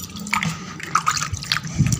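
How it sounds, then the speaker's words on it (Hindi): Water splashes and drips as bleach cream is rinsed off skin by hand, with irregular close splashes and trickles at a moderate level and no talk. "पानी से इसको अच्छी तरह से वॉश करेंगे।"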